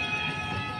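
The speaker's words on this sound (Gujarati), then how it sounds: "રેલગાડી આવી ગઈ છે" A small ride train at a village fair rolls past with a continuous rumbling mechanical hum and a high whine, close and steady, with no talking.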